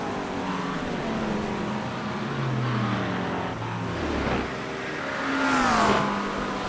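Race cars in the iRacing game at Le Mans, including a Mustang and a Corvette, with engines whining and revving as they pass through the Porsche curves, rising to a loud pass-by near the end.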